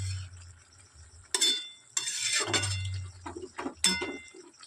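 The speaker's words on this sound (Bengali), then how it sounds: "এবার একটু নাড়াচাড়া দিয়ে ভালো করে মিশিয়ে দিই" Beetroot curry with tomatoes stirred in a pan, a spoon scraping and clinking against the metal in several uneven bursts over a soft sizzle, close by with no voices.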